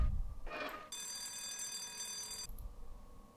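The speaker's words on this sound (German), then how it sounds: "Hat irgendjemand das gehört, dass ich gerade die Alarmanlage angemacht habe?" In the horror game White Day Remake an alarm system goes off with a loud, steady electronic ringing that holds for about one and a half seconds after a short clatter, then stops.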